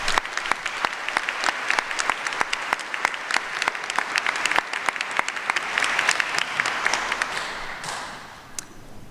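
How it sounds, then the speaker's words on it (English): Applause at an honors convocation, a smaller crowd whose individual sharp claps stand out distinctly, building briefly then thinning and fading away toward the end. "Let's give these people a round of applause."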